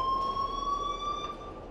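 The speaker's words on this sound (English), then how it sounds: "please turn off that alarm" A school alarm in the game Life is Strange rings as a steady electronic tone, loud and continuous throughout with no talking.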